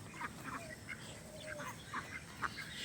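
Farm ducks give a scattered series of nasal quacks at moderate distance, spaced through the clip over a steady outdoor background hiss.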